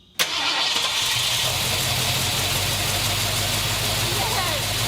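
Ford Bronco engine fitted with Holley Sniper EFI catches with a sharp burst after a brief crank and settles into a loud, steady idle, close by, with people talking over it.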